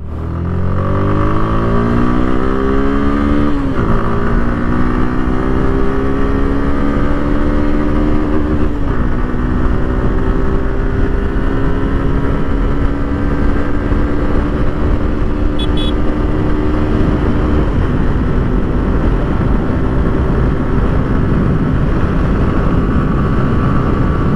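A Suzuki Gixxer 150SF BS6 motorcycle accelerates hard on a top speed run, its engine whine climbing through several gear changes and then holding a loud, steady high drone with wind rush.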